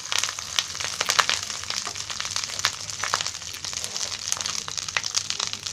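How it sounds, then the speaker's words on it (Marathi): Cumin seeds, half a spoonful, hit hot oil already holding curry leaves, bursting into a steady crackling sizzle with sharp pops scattered throughout, close and continuous, with no voices. "आता त्याच्यामध्ये जिरा टाकते."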